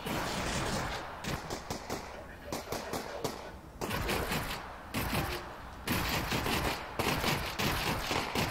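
Rapid bursts of gunfire in Half-Life: Alyx, fired in quick clustered volleys with short gaps between them, loud and close throughout.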